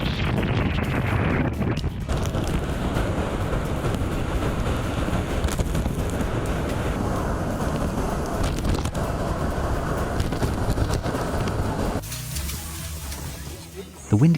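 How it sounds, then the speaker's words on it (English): Strong Typhoon Maria wind roars across Rio Beach in Okinawa, buffeting the microphone in a loud, continuous rush that eases near the end. "The wind came in a bit too strongly, and the Rio Beach instantly turned into a running track."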